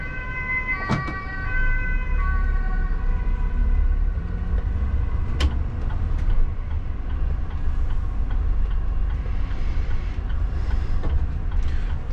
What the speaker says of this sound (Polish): Czekajmy na karetkę.